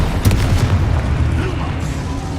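Spell blasts and explosions from the Hogwarts Legacy video game, a dense rumbling barrage of booms with sharp bursts near the start, loud and continuous throughout, with no clear talk.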